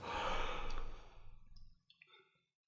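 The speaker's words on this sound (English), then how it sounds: "Sorry, I had a yawn." A single drawn-out human yawn, loud and breathy at first, then trailing off into a soft exhale with small mouth clicks, close to the mic with no talking.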